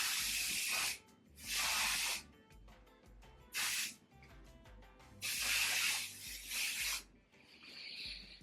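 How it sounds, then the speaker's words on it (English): Insect repellent sprayed onto bare legs outdoors in Jamaica in several loud hissing aerosol bursts of a second or so each, separated by short pauses, with quieter rustling between them and no talking. "I'm going to quickly douse my legs in more spray."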